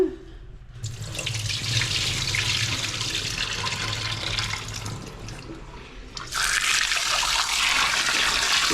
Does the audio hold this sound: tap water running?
yes